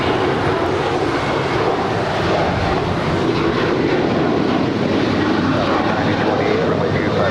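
A fixed-wing airliner takes off from runway 25 right at LAX, its engines producing a loud, steady, broadband roar that holds throughout, with radio voices faintly underneath.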